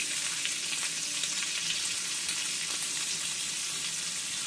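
Steady, dense sizzling of Gulf shrimp frying in a hot pan, a continuous crackling hiss with small pops, close and fairly loud, no voices.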